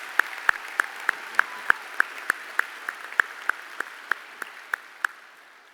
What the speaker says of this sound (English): if we could give them one more round of applause for their performance